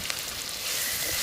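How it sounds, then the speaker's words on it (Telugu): Chopped onion sizzles steadily in hot oil with cumin and mustard seeds and two green chillies in a pan, a soft, even hiss that swells slightly louder toward the end, with no voices over it. "ఇగో ఉల్లిగడ్డ వేసుకుంటున్నా."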